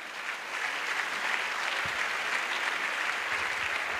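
A church crusade audience claps steadily and densely throughout, a sustained wash of applause with no voices rising above it.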